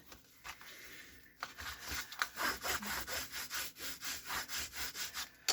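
Paper in a handmade craft journal is rubbed down with repeated rhythmic back-and-forth strokes, faint and close, each pass a soft scratchy swish.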